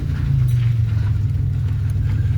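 Steady low engine drone and road rumble from a 2000 Chevy Malibu driving slowly, close and constant, with no talk over it.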